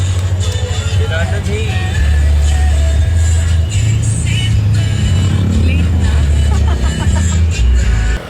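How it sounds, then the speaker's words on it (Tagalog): Rumbling motor of a tricycle carrying riders, loud and continuous from inside, with traffic around and people talking over the engine noise. "So ayan, nakasakay kami sa tricycle."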